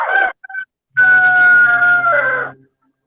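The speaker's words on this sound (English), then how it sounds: "that rooster sounds good, don't he?" A rooster crows loudly and close by, a brief clipped call followed after a pause by a long, strong sustained crow that trails off, with silence around it.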